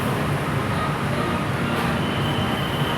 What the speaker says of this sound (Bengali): বিটিএস চলে আসে।